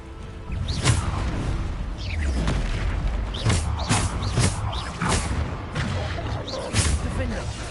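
Spell blasts and explosions in the Hogwarts Legacy video game boom and whoosh repeatedly over a dense, rumbling battle background, loud and close, while a voice calls out spell names throughout.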